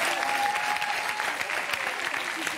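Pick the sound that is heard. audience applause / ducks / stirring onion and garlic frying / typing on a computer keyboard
audience applause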